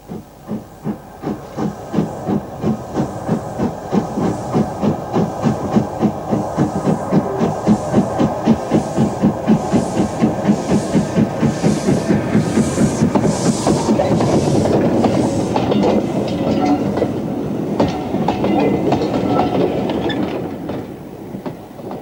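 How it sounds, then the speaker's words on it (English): An LMS Jinty steam locomotive pulls away eastbound at Swanage Junction, loud rhythmic exhaust chuffs that quicken and merge into a steady roar as it departs, then fade near the end. "A large museum complex has been created at Swanage Junction, where we see the Jinty leaving eastbound"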